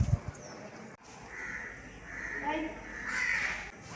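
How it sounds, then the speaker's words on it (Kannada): Crows cawing and squabbling outdoors at a temple site in Sringeri, harsh calls repeating at mid distance over background voices and ambient noise. "ಇಲ್ಲಿ ಕಾಗೆಗಳು ಒಳ್ಳೆ ಫೈಟಿಂಗ್ ಆಡ್ತಿದ್ದಾವೆ ನೋಡಿ."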